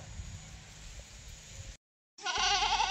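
Goats bleating after being fed, a few calls close by over steady rustling and background noise, with a brief gap of silence before louder, brighter bleats return.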